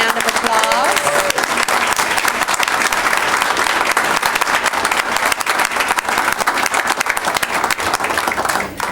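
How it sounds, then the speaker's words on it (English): An audience gives loud, sustained applause for newly nationally board certified teachers at a ceremony, with dense clapping that runs steadily throughout. "let's give all of these nationally board certified another round of applause."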